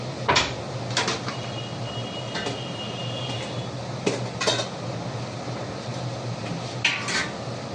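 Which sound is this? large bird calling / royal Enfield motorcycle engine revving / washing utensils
washing utensils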